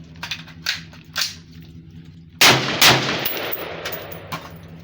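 A gun with an under-gassed action firing rounds from a magazine, a string of sharp loud shots, some spaced and a louder cluster midway, over a steady background hum.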